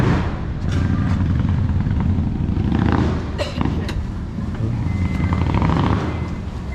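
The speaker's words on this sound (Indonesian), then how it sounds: "Wah, motornya digeber-geber." A motorcycle engine is revved on a busy night street near Petaling Street and Kota Raya in Kuala Lumpur, a loud, rough engine roar with surges amid traffic noise and a speaking voice.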